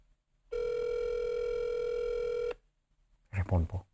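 Telephone line tone heard while dialing the CNRC time service: one steady, loud buzzing tone lasting about two seconds, then silence and a brief burst of speech.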